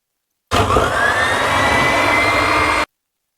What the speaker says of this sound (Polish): trzeba to na wolnych obrotach delikatnie wymieszać